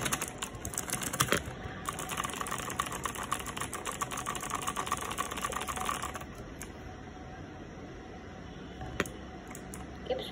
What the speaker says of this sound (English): Sounds incredibly good when I'm using my spam keys.